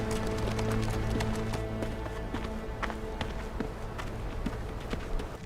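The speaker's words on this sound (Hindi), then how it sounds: "घोड़े लेकर आओ।" Several horses moving over open ground in a period drama setting, a steady, dense patter of hoofbeats with repeated sharp taps, fairly loud and continuous over a low rumbling background.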